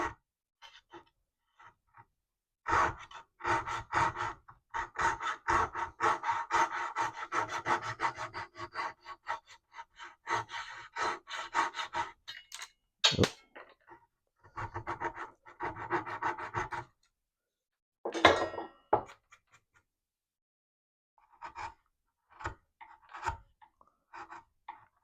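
Rhythmic, fairly close hand-saw strokes cutting through wood on a mid-century modern dresser, bursts of steady rasping pull cuts separated by short pauses, with no talking.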